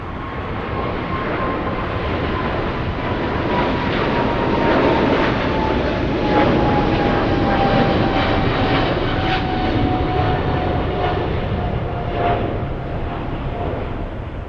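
Jet airliner climbing out after takeoff at LAX, a loud steady roar with a slowly falling whine, sustained throughout without voices.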